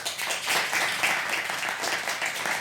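Audience applause at a comedy show, dense clapping from a crowd at moderate distance that stays fairly even for a couple of seconds.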